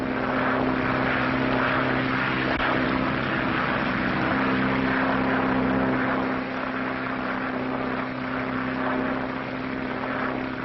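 Propeller airplane taking off in the 1937 film Atlantic Flight: a loud, steady engine drone with a strong hum that holds for about ten seconds with no voices.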